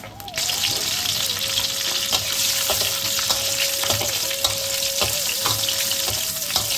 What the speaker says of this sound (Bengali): একটা শুকনো লঙ্কা, দুটো কাঁচা লঙ্কা আর সর্ষে ফোড়ন দিয়ে দিলাম।